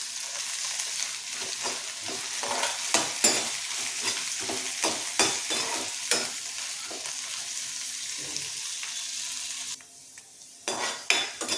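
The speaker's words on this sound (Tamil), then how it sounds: "அதை எடுத்து வதக்கி எடுத்துக்குவோம்." Pirandai (adamant creeper) is sautéed in a pan, a spatula scraping and clinking against the metal in a quick, irregular rhythm over a low sizzle. The stirring pauses briefly near the end, then resumes, with no voices.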